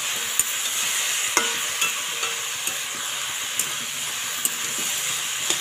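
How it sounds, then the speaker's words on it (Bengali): Sliced vegetables for a noté greens chorchori fry in a hot pan with salt, turmeric and chili powder, giving a steady close sizzle and hiss broken by sharp spatula scrapes and clicks while they are stirred. "আর একটু ভাজবো।"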